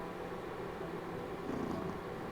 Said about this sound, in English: purring at the microphone.